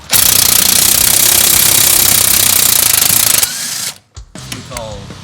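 A heavy impact gun hammers at a 14mm bolt on an Integra VTEC engine, a loud sustained rattling burst of about three and a half seconds before cutting off, followed by brief clanks.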